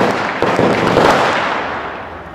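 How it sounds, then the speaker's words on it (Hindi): Firecrackers burst outside in a loud, dense volley of cracks and booms that roll on for a couple of seconds before fading, with no talking. "पटाखे तो बंद हो तब तो मैं बताऊं कि हमारा खाना कितना टेस्टी है।"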